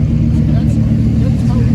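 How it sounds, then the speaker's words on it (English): Classic cars, among them a Porsche 912 and early Porsches, idle and roll into a car club lot, a steady low engine rumble filling the scene with people talking over it. "Getting a lot of cars coming in here."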